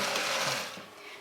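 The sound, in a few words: whisking pea and bean sauce, eggless lenten mayonnaise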